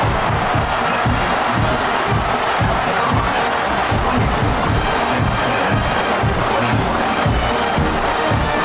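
Stadium crowd roaring at a college football game between Texas A&M and South Carolina, a loud, constant wall of cheering with rhythmic swells, no voice standing out above it.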